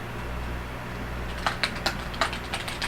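Light taps on a computer keyboard, a handful of quick clicks over a steady low fan hum, close and fairly soft.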